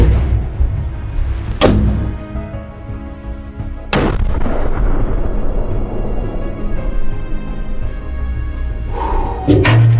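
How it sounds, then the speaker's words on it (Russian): A tank cannon fires loud, sharp booms, three blasts spread across the stretch, each ringing out with a rolling tail. "И сейчас бахнет. Так, орудие заряжено, да?"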